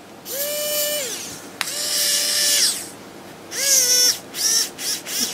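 A Xiaomi WOWSTICK 1fs electric screwdriver runs in three bursts, a whining motor tone that rises at start-up, holds steady and drops as it stops, the last burst stuttering into short pulses as the tip is pressed under load.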